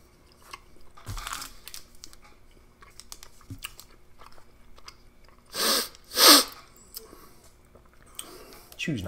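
Someone chews and crunches a sugar-free peppermint sweet from a British 24-hour cold climate ration pack, with close, crisp bites at intervals and two loud, strong bursts near the middle.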